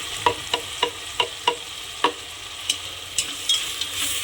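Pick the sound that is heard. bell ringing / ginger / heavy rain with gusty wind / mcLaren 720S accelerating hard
ginger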